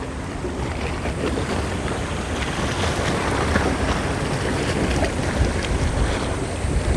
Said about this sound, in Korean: 이쪽엔 좀 바람도 조금씩 불고, 괜찮습니다.